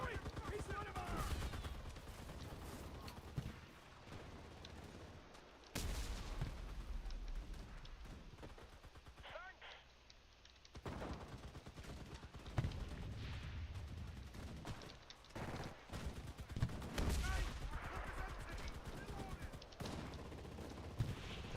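Bursts of rifle and machine-gun fire crack through a chaotic battle in the World War II shooter game Enlisted, with scattered shots, brief lulls and voices shouting over the combat.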